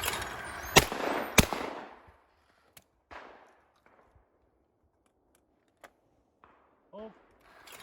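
Shotguns firing at sporting clays targets outdoors: two loud, sharp blasts close together open the clip, followed by a few fainter, more distant reports spaced apart and a brief voice near the end.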